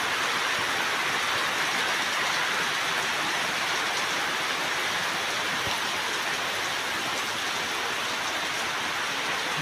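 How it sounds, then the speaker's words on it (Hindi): Heavy rain pours steadily during a monsoon downpour, a dense, even hiss of falling water that stays loud and unbroken throughout with no voices. "हेवी वर्षा"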